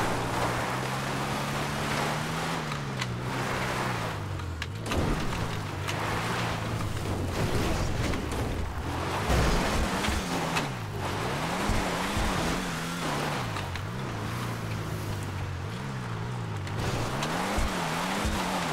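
A Hotring Everon race car in GTA 5 revs its engine repeatedly, the pitch rising and falling in waves over roughly eighteen seconds, loud and continuous with no talk.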